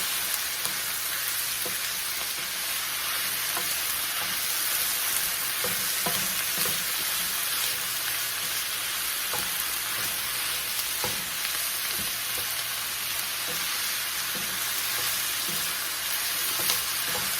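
Onions and sage sausage fry steadily in a pan, a continuous close sizzle with occasional soft stirring clicks and scrapes, no voices.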